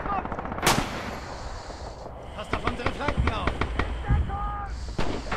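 Bursts of automatic machine-gun fire crackle through a Red Orchestra 2 battle, rapid repeated shots cutting in over a steady din of combat with distant voices shouting.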